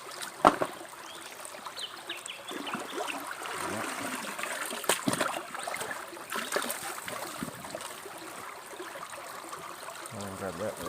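Water rushing steadily through a river sluice at a gold mining site, a continuous close trickling and splashing flow with a few knocks and clatters.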